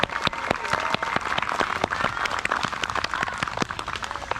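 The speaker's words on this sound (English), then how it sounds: "And so give a big round of applause to my mom, Priscilla, for being our shuttle driver." An audience at an ice cream social claps, moderately loud with distinct sharp individual claps standing out over a softer crowd bed.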